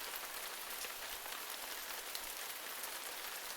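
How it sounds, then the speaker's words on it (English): Rain effect in the visual novel Norn9 Var Commons, a dense, even hiss of steady rainfall with scattered drop patter, constant and moderately quiet, with no thunder or voices standing out. "Ooh, a thunderstorm."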